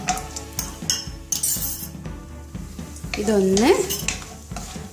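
Cashews tossed into a hot pan still oily from frying potatoes, with metallic scraping and clinks of a spoon stirring and a soft sizzle underneath; a voice speaks briefly.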